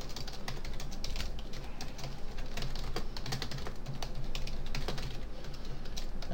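Fast, continuous typing on a computer keyboard while building a web form, with dense, even clicking taps close by throughout and no talking.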